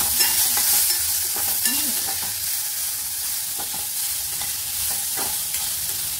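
Chopped tomatoes sizzling and frying in a hot pan while being stirred, a steady close hiss with occasional scraping stir strokes and no voices.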